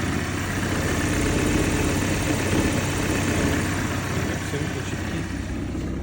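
A BMW 330e engine running unevenly with misfires, producing a continuous, close, fairly loud engine drone that stays steady throughout.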